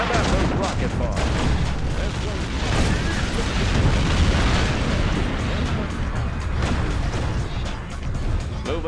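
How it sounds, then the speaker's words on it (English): Rocket bombs exploding in a Red Alert mod strategy game, a dense, loud barrage of overlapping blasts and booming rumble that continues for several seconds with no break. "How about those rocket bombs?"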